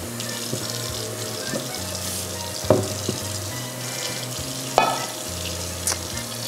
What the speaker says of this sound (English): I think I'm gonna just let it like toast in the butter